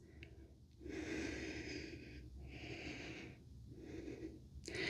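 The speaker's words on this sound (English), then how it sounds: "Keep breathing deeply." Slow, deep breathing during yoga practice, long audible inhales and exhales alternating in a steady rhythm, close and clear with no talking over it.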